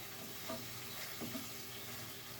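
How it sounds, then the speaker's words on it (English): A veggie burger fries in a pan with a soft, steady sizzle while it is stirred around, with a few faint scrapes near the half-second and one-and-a-quarter-second marks, fairly quiet and without talk. "you mix that burger around"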